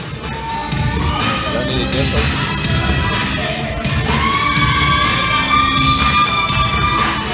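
Large crowd cheering and whooping at the Olympia 2020 bodybuilding show, a dense, sustained roar of many voices with shouts rising over it, swelling louder in the second half.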